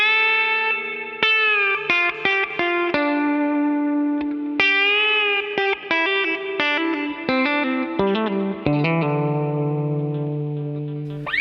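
An electric guitar plays the opening part of a guitar solo, a clean, chorus-tinged run of quick picked notes and bends, close and loud, with no talking over it.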